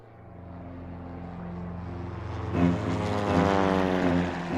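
A propeller-driven military aircraft flies over in a raid on a government palace, its droning engine growing steadily louder and peaking in the second half as it passes close overhead.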